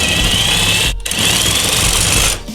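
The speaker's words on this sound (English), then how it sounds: "use an electric impact gun like this" Older Ryobi electric impact wrench with about 300 foot-pounds of torque driving a car's scissor jack, a loud close buzzing hammer that stops briefly, starts again and then cuts off.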